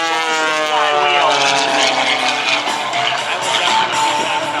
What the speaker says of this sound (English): Now as Bill brings that airplane right back in out here, he's going to show us the flywheel.